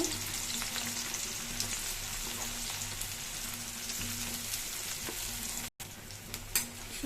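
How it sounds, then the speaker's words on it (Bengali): Onion and green chili sizzle loudly and steadily in hot tempering oil, with occasional stirring clicks and a very brief dropout near the end. "এখানে পেঁয়াজ আর কাঁচামরিচ দিয়ে এখন বাগার দিব"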